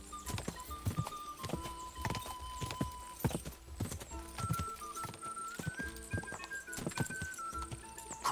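Horse hooves clip-clop at a galloping pace in the medieval game Kingdom Come: Deliverance II, steady rhythmic hoofbeats up close with a brief whinny and game music and effects layered underneath.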